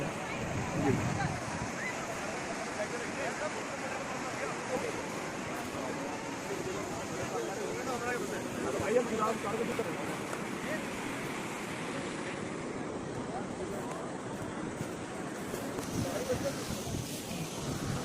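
Rushing water from a waterfall amid snow at Rohtang Pass, heard as a steady broadband roar with wind buffeting the microphone throughout.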